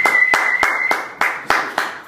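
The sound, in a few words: applause for show guest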